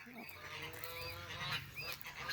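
Geese honk repeatedly in a farm pen, several loud nasal calls overlapping close by, with a brief pause between bursts.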